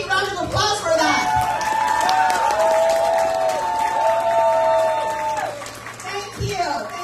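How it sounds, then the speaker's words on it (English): A campaign rally crowd applauds and cheers, with sustained clapping, whoops and shouting filling the whole stretch at close range, and voices calling out above the noise. "Can I hear a big round of applause for that?"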